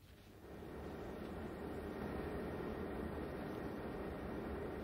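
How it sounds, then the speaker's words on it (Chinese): An aircraft takes off as a sound effect in a Cantonese radio drama: a steady, loud, broad roar that swells in the first half second and then holds, with no voices. "点知飞机起飞之后"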